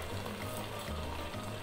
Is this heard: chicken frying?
yes